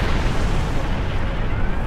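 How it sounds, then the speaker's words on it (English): A ship explodes in the space game Star Trek Online, producing a dense, loud, continuous roaring blast that fills the whole moment without any voices. "The Swifter was caught in the explosion,"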